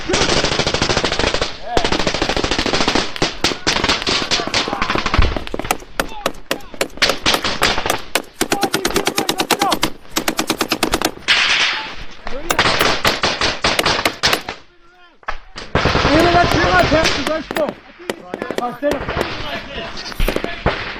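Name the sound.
M240B machine gun firing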